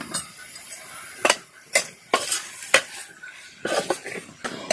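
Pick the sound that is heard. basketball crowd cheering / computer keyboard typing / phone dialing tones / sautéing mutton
sautéing mutton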